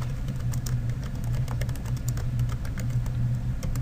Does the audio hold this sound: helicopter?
no